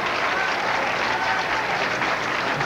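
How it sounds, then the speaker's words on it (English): Bowling crowd applauding steadily during a 1987 PBA Columbia 300 Open title match, a dense, continuous clatter of clapping filling the hall at an even loudness throughout. "Boy, the crowd seems to really be into this title match."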